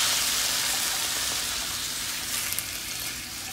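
Tomatoes added to browned onions fry in a pan with a dense, steady sizzle, close and fairly loud, a couple of faint stirring knocks near the end and no talk.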